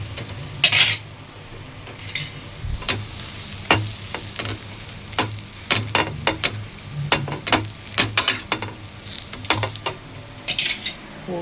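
A cheese sandwich toasts and sizzles softly in a pan at home. Frequent light clinks and scrapes of a utensil against the pan sit over the steady frying, with no talk.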